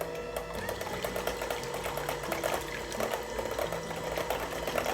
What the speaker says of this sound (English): I will use my mixer again and mix the eggs and the vanilla together.